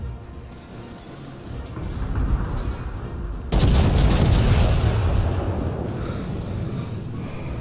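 Naval cannons fire from warships in the World of Warships video game: a sudden heavy boom midway breaks over a steady rumbling background, then a loud, sustained roar slowly fades.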